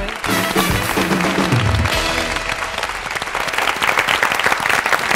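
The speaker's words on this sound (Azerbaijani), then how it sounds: "Alqışlayırıq" A studio audience at an evening game show breaks into loud, dense, sustained applause from many hands, steady throughout with no talk over it.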